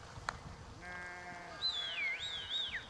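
A single sheep bleats nearby on the island of Kerrera, a wavering drawn-out call, followed by a bird's high sliding whistle over quiet outdoor ambience.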